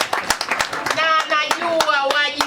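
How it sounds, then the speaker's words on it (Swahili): An audience at a district official's gathering claps for the chairman, a quick rhythmic patter of many hands that starts at once and continues steadily while a voice speaks over it. "Mumpigie makofi"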